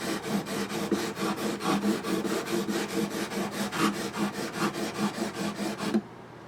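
Steady back-and-forth rasping as 240 grit abrasive smooths the bass-side frets of a Yamaha F310 acoustic guitar, with quick regular strokes that continue for about six seconds, then stop abruptly.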